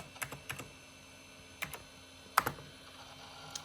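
Sparse keystrokes on a NeXTstation keyboard as a login password is typed, a handful of close, crisp clicks in small irregular clusters with quiet gaps between them.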